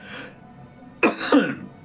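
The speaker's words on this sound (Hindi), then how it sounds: "जाड़ा है तो खांसी होने लगती है" A single sharp cough, quickly followed by a second rougher cough, close and loud after a quiet moment.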